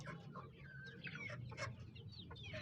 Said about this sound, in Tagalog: Meron din po tayong tinatawag na native chicken, Joholano.